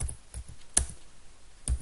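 A few sharp keyboard keystrokes, spaced irregularly, with quiet gaps between them; close and fairly soft.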